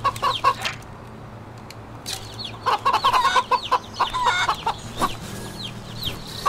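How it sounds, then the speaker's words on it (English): Chickens in the video game Wytchwood cluck in repeated, close bursts, several birds calling over a low background, with no talk. "Chickens!"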